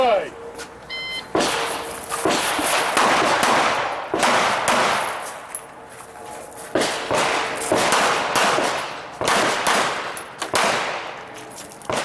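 Rapid pistol gunshots ring out in loud, sharp bursts at an IDPA shooting match stage at Mecklenburg Wildlife Club, several strings of shots separated by brief pauses.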